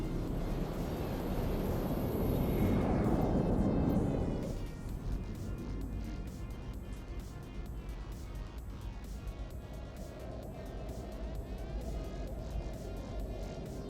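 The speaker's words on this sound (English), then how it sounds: "Warp drive active." An EVE Online ship engages its warp drive with a swelling, airy roar that peaks for several seconds. It then drops abruptly into a steady, softer hum with a faint sustained tone, continuous and unbroken throughout.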